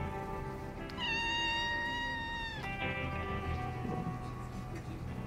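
In a home kept with about fifty cats, one cat lets out a single drawn-out, wavering meow that fades, then faint household background follows.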